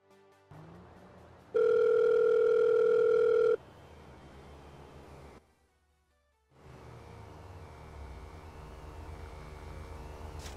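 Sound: phone booth dial tone in FiveM video game

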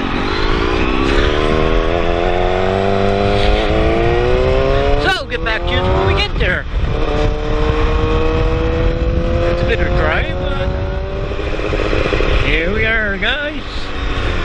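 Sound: motorcycles at the Port Dover bike meet

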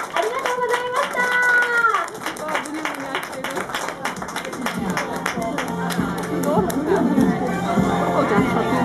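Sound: applause seeing off the mascots

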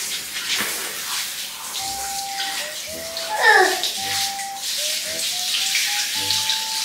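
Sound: water running as a toddler washes in the bathroom

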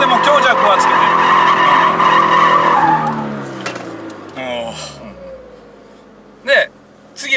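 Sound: Toyota 86/BRZ drifting, tyres skidding

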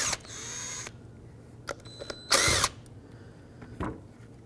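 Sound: removing small nuts with a 7mm socket

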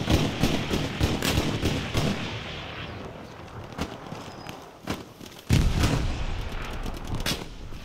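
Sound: gunfire from sniper in the video game Hell Let Loose

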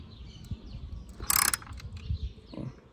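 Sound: wrench on valve cover bolt, Ford Focus 2.0 Duratec

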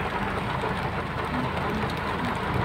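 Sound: heavy rain falling

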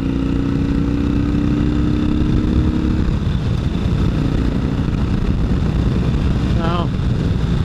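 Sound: wind noise while riding motorcycle

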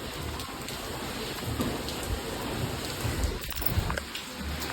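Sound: heavy rain pouring down

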